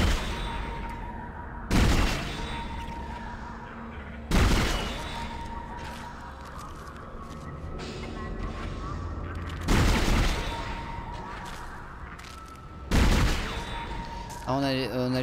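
Machine gun in the game Dead Space, with four sharp, loud bursts of gunfire spaced a few seconds apart against a steady, murky background drone.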